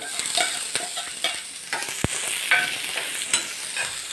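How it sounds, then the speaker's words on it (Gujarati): Chopped green garlic sautés in a pan over medium heat with a close, steady sizzle. A spoon stirs and scrapes through it, and one sharp knock sounds against the pan partway through. "હવે આને મીડિયમ હીટ ઉપર સરસ લીલું લસણને સોતળવા દેવાનું છે"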